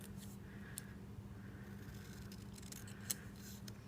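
Scissors cutting paper during a card-making craft, faint repeated snipping close by in a quiet room.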